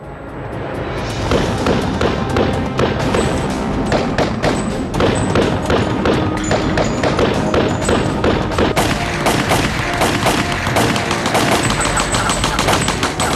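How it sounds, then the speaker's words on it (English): Rapid machine gun fire, a dense and loud continuous rattle of shots with thumping impacts that keeps going for over ten seconds. "The guns could fire more than 800 rounds per minute."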